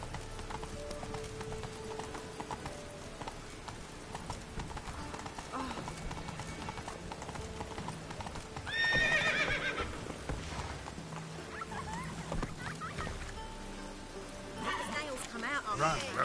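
Geralt's horse Roach in The Witcher 3 gallops with rhythmic hoofbeats, letting out a whinny midway, over ambient game sounds with a light rain-like hiss underneath.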